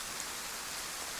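Steady rain in DayZ on Livonia, a soft, even wash of falling drops with no distinct patter or other sounds.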